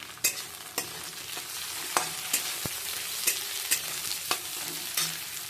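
Chopped capsicum frying in a pan for masala egg chicken rice, a steady sizzle broken by repeated sharp spatula taps and scrapes at an irregular rhythm, close and clear.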